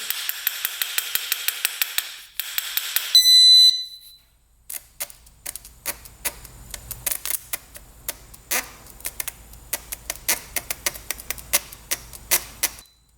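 A rapid series of sharp metallic taps and knocks on a stuck motorcycle part, bursts of hammering with brief pauses, preceded by a short buzzing tone.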